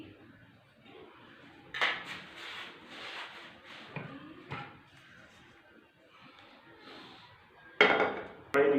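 A metal karahi wok set down on a stove in a home kitchen, heard as several clanks and scrapes of metal against the burner grate, moderately close, followed by two sharper knocks near the end.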